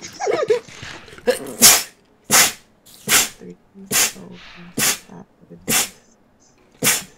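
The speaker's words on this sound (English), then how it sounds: "that's how I sneeze" A run of seven sharp, explosive human sneezes in quick succession, each a loud broadband burst separated by short pauses, with some breathy noise and a voice before the first.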